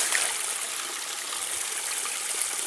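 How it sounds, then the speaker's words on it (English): Spring water flowing out of the hills runs in a steady, close, hissing trickle, an unbroken bright wash of moving water with no voices. "Water comes out of the hills up there."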